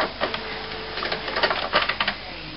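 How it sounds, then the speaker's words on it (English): Mechanical whirring and clicking of an HP Photosmart J4580 inkjet printer's carriage moving inside, fitted with a continuous ink system, with uneven bursts of rattling and a few sharper clicks, fairly close. "See, the printer is moving inside."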